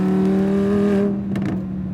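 A tuned Lamborghini Huracán LP580-2 V10 holds a loud, steady engine drone that eases off after about a second, leaving a quieter rumble with a brief whooshing burst.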